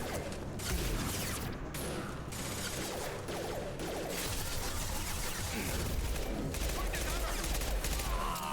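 SMG fire in Mass Effect 2 Legendary Edition, dense rattling bursts of rapid shots with mechanical clatter running almost without a break, loud and close, with some voice activity mixed underneath.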